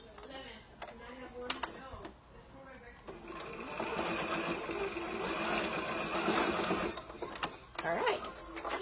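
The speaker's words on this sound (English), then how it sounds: "I'm going to go ahead and baste that strap in place." A sewing machine bastes a strap onto a dress bodice, whirring in a steady sustained run after a few short stitching bursts, with someone talking over the start and end.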